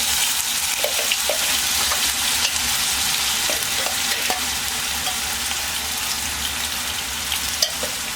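A mixture of ground raw turmeric and jaggery roasts in a little ghee, sizzling loudly and steadily throughout, with occasional light clicks of a spoon.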